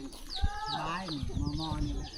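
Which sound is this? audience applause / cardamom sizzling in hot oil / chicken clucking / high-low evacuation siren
chicken clucking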